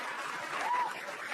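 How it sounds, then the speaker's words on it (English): A comedy club audience claps for a stand-up comedian being introduced, a dense, steady wash of applause with no voices standing out above it. "Mark Norman, please clap for him."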